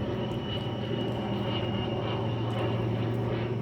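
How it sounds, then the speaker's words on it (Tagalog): An airplane passes overhead near a fishing spot as a steady, moderately loud droning roar that holds evenly for several seconds, with no talk over it. "Tapos may aeroplano pa dumadaan."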